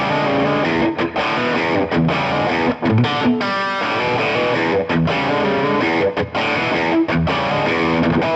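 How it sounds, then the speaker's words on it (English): Distorted electric guitar through a Suhr Eclipse overdrive pedal's mid-to-high gain channel plays a chunky rhythm part, chords with short palm-muted stops and brief gaps, loud and alone. "I've got the blue channel set up for my mid to high gain rhythm tone"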